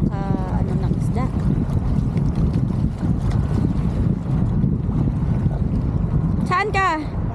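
Strong sea wind roars continuously across the microphone aboard a small fishing boat, a dense rushing buffeting with faint vocal sounds and a brief higher cry near the end.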